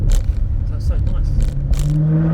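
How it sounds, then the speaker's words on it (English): Maserati GranTurismo S with a 4.7-litre Ferrari-built V8 on a town drive-by, downshifting from second to first: a loud, close engine burst with crackle, settling into a steady low drone. "That downshift from second to first."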